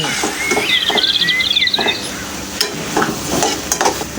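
Mixed leafy greens being stirred and mashed in a pan, with scraping and knocking strokes over a soft sizzle, and birds chirping faintly in the background.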